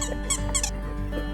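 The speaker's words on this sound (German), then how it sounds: "Wenn der Welpe dieses quietschende Spielzeug beißt, pfeifen zwei eingebaute Pfeifen an beiden Enden des Spielzeugs" Squeaky dog chew toy with two built-in whistles at both ends, made for a puppy to bite, gives several short high whistling squeaks in quick bursts over a steady low hum.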